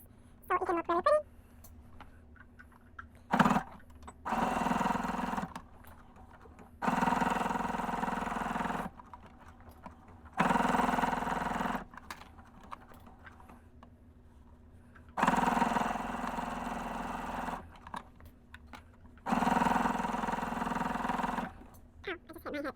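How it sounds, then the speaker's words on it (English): A sewing machine stitches a quarter-inch seam across a fabric market tote bag in several sustained whirring runs of two to four seconds, separated by short pauses with occasional clicks and handling. "So I'm going to sew this at a quarter of an inch all the way across so it can look really pretty."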